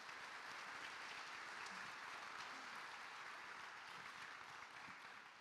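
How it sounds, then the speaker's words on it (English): A room full of people at a student recognition event gives another round of applause, a faint, even, continuous wash of clapping heard from a distance with no letup. "Can we give them one more round of applause?"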